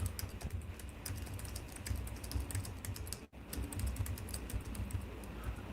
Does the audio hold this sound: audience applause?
no